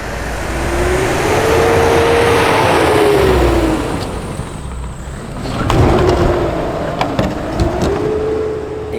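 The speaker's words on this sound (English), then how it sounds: "as soon as your wheels come off that main part of the road, they just really start spinning on the edge of the road" A 4x4 on a snowy road edge in the Barrington Tops revs hard while its wheels spin, a loud, continuous engine drone with rising and falling pitch and rough crunching grit beneath.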